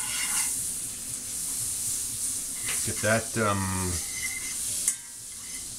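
A prime rib steak sizzles with a steady hiss in a smoking hot pan, the frying crackle running throughout while someone speaks briefly over it.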